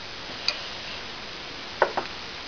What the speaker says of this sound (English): I'm going to put it on the flat horn and I'm going to tap it.